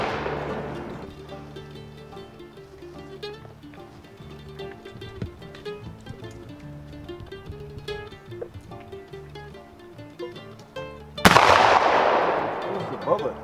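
A muzzleloading smoothbore fowler is fired at a target outdoors in Fawn Creek, Montana, one sharp, loud blast near the end after quiet stretches with scattered small sounds and brief talk.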